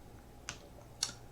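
Two sharp, isolated keystrokes on a computer keyboard as a value is typed into CAD modeling software, each a quiet click spaced about half a second apart over a faint room hum.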